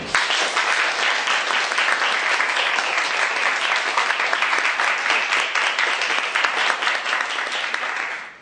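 Audience at the Think Again Awards 2008 breaking into sustained applause for Dixon, dense clapping filling the room loudly and steadily for several seconds before tapering at the end.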